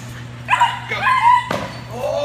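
A 19-week-old German Shepherd puppy tugs at a toy during protection training, giving a run of high, strained yelping and whining vocalizations over a steady low hum, fairly close and moderately loud.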